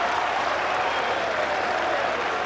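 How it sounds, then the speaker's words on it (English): Steady applause from a stadium crowd at a women's football match in the Aisha Buhari Cup, greeting fine goalkeeping; dense, continuous clapping with no break across the stretch. "Round of applause from all and sundry here at the stadium."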